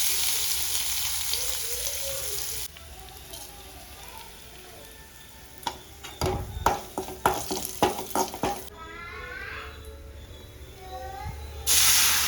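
Curry leaves and crushed chili hit hot oil for tempering, giving a bright hissing sizzle that flares with several sharp crackles and pops midway, then settles back to a softer frying hiss.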